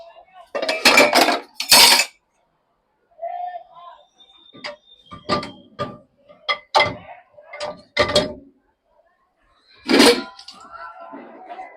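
Plates go one by one into the lower tray of a Bosch dishwasher, each with a crisp clatter and clink. The knocks come in an irregular run with quiet gaps, and a voice is heard briefly.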